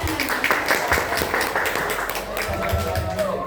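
An audience claps to welcome a guest speaker at a student seminar. A dense patter of hand claps runs continuously through the whole stretch against a busy, noisy room, with some voices mixed in.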